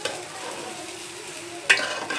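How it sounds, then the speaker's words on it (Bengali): Rice for pulao is fried and stirred in a pan, a low continuous sizzle with a sharp scrape of the spoon near the end, no voices. "ভালো করে চালটাকে ভেজে নিব।"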